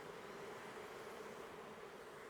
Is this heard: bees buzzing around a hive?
yes